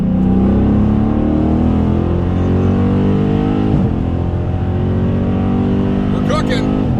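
A Ford Mustang GT and a Scat Pack roar flat out in a roll race from about 43 mph, a loud, sustained engine drone with rising pitch filling the whole stretch, heard from inside the car.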